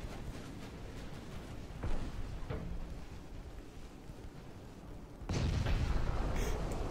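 In the naval battle game Ultimate Admiral Dreadnoughts, 8-inch guns fire on automatic with muffled, distant booms over a low rumble, then a heavier sustained blast rolls in toward the end.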